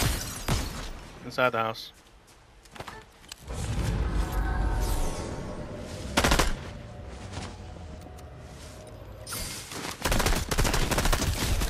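Bursts of automatic gunfire and shattering from players shooting in Fortnite, loud cracks at the start and again near the middle and end, with a voice talking briefly between them.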